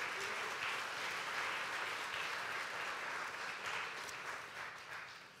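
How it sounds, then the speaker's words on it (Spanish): A church congregation claps loudly and steadily, dense applause filling the room for about five seconds and easing off slightly at the end. "dale fuerte el aplauso al Rey de Reyes"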